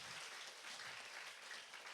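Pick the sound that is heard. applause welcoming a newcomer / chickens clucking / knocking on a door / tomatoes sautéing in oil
applause welcoming a newcomer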